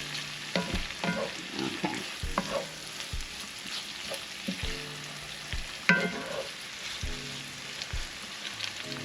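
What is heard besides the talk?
vegetables frying in a pan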